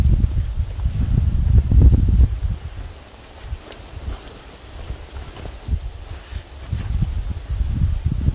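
Strong wind blows across a mountaintop above Okjeong Lake in Imsil. Gusts buffet the microphone in rising and falling surges, loudest at the start and again near the end.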